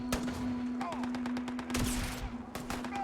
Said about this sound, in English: Who's shooting who?